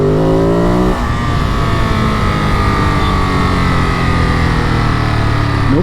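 A Ducati Monster motorcycle engine revs hard and accelerates, a loud, close, continuous roar that climbs in pitch, drops briefly after the first second, then rises again.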